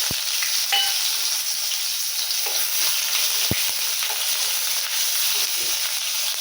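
Onions crackle and sizzle steadily in hot oil in a kadai, a dense close hiss that holds with no pause. Small stirring clicks come through, and there is no talk.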